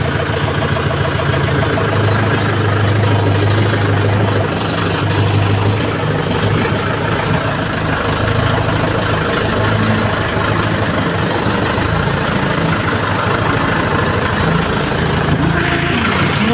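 A tractor named Toofan runs steadily in a village setting, a loud continuous low engine drone with a rough mid-range rattle holding the same pace throughout, no talk over it.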